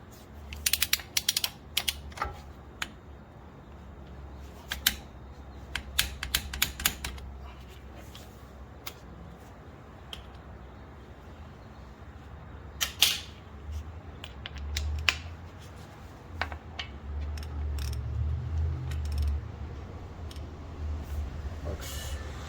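A ratchet wrench clicks in bursts while tightening a CV axle bolt on a car's passenger front axle, turned about 90 degrees after torquing; close, crisp metallic ticks come in uneven runs with pauses, plus some low rumbling handling noise.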